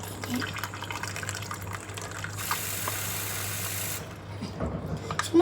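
Tap water runs steadily into a pot of potatoes, a continuous hissing pour that shifts in tone partway through, with a voice speaking over it.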